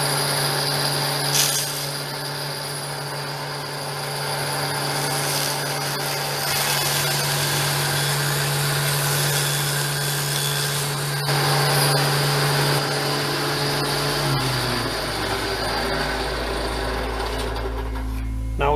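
A power saw trimming the edge of a wooden board against a fence while building a display case, with a steady loud whine and cutting noise that runs throughout before the motor winds down near the end.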